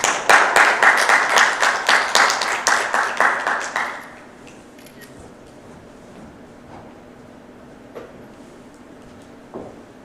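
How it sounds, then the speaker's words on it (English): An audience at an international studies forum gives a brief round of applause, a few seconds of fairly loud clapping that stops abruptly, leaving a quiet hall with faint rustles and small bumps. "Let's have them in the stage with a big round of applause."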